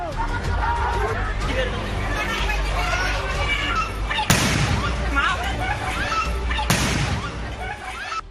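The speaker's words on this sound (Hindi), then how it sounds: "बम बारूद से हमला हुआ, गोलियां दागी गईं" During a violent clash at an election in Cooch Behar, West Bengal, sharp blasts break through a steady din of crowd noise and shouting, with two loud bangs standing out.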